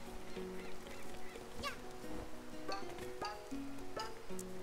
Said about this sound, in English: That darn seagull over there took my camera!